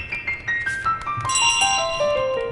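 Bell chimes from Untitled Goose Game, a series of bright, clear ding tones ringing one after another in a descending run, close and loud with no speech over them.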